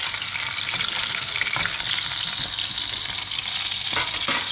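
Crushed garlic sizzles and fries steadily in a pan alongside duck being cooked, a close, continuous crackle with small bursts of spattering and no talk.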